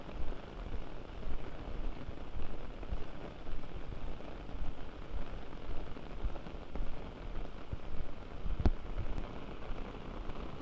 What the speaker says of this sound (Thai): ไปทางไหนก็มีแต่ฝน